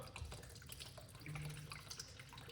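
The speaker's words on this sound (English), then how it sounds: "we're gonna put some coconut water" Coconut water pours into a watermelon, ginger and lime juice with a soft, continuous trickling and splashing, faint and close, without talk.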